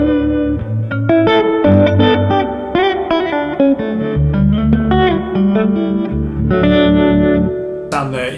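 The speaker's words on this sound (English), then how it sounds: "the Reverberammo giving me some wobble" An electric guitar played through a Victoria Reverberammo spring reverb and vibrato unit rings out in sustained notes and chords with a wobbling pitch and lush reverb tails, loud and alone, ending with a short bright burst.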